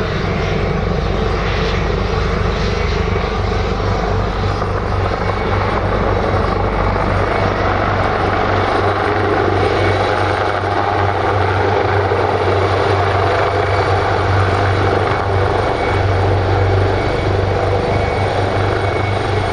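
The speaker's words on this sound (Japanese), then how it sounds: "55分ほど前に出発していた広島県防災航空隊のヘリが帰ってきました。" A Hiroshima Prefecture disaster-prevention helicopter comes back in to Takamatsu Airport, its rotor and turbine a loud, steady, close roar with a deep beating throb that fills the whole stretch without pause.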